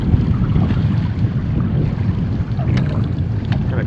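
Wind gusts across an open lake on a September solo canoe trip in the Boundary Waters, a loud, steady rushing roar buffeting the microphone, with faint water sounds underneath and no talking.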